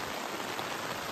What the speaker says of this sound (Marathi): आणि पावसाक सुरुवात झालेली आहे परत